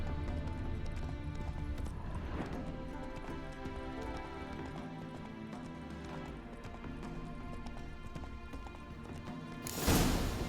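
A horse gallops in the video game The Witcher 3, with fast, continuous hoofbeats throughout and steady game ambience underneath, ending in a brief louder burst.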